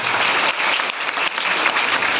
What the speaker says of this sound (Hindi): लखन सर के लिए जोरदार तालियों से स्वागत करें